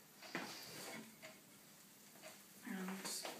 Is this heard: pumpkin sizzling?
yes